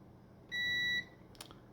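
Multimeter on audible continuity testing a fuse from an RV cab heater, one clear high-pitched electronic beep lasting about half a second, followed by a faint click.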